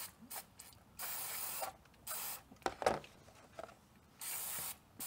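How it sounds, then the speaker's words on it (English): Short bursts of spray from an aerosol can of non-flammable brake parts cleaner hose down motorcycle brake parts on a Honda CB500X, several hissing blasts separated by pauses with small mechanical clicks between them. "I'm just going to pick up a can of non-flammable brake parts cleaner"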